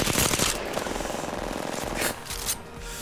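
Rapid automatic gunfire in the battle royale video game Apex Legends, dense bursts of shots cracking in quick succession under muffled game noise.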